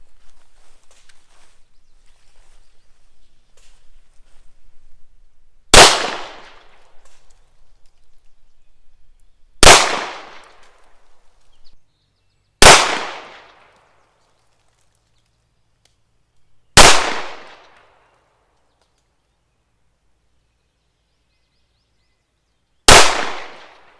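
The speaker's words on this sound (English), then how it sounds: "odd ammunition malfunctions aside, the pistol shot really well" A Browning Hi Power Mark III pistol fires five single shots on a shooting range, each a loud, close crack with a decaying tail, spaced irregularly several seconds apart.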